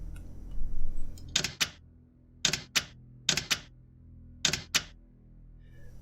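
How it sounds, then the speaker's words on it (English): Enigma machine keys being typed in the Silent Hunter 5 submarine game: four loud, close bursts of clacking mechanical keystrokes, each a quick double or triple strike, separated by short pauses. "I'm going to type in the Enigma machine"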